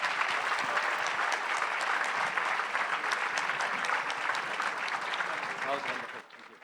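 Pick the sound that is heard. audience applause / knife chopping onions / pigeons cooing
audience applause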